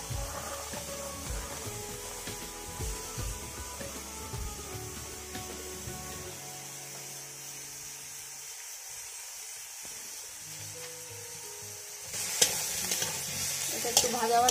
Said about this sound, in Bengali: সবজিগুলো দিয়ে একটু নাড়বো।